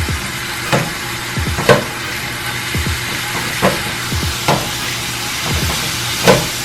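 Cheesesteak steak meat sizzles steadily in a pan while a spatula chops and scrapes through it in irregular sharp knocks, close and fairly loud.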